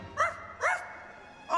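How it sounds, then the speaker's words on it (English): Three short, clear dog barks ring out at an evening Halloween show at Magic Kingdom, evenly spaced with a longer pause before the last, moderately close and with nothing else around them. "Where is that dog?"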